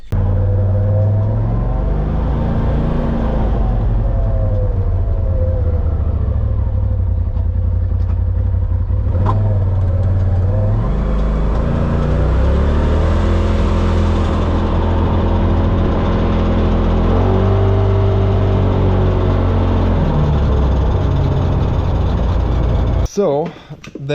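2023 Polaris RZR Pro XP engine running on a test ride, a loud close drone that rises and falls as it revs, with clattering and speech over it, ending with a sharp knock.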